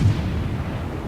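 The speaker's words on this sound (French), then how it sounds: "C'est au canon cette fois." Naval cannon fire in the World of Warships video game, heard as a single heavy boom at the very start that trails off into a low rumbling tail.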